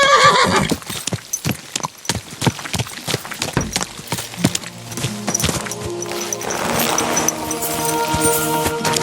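In the video game Kingdom Come Deliverance II, a horse gives a loud, close whinny, then hooves clop in a quick, uneven rhythm before steadier background noise takes over.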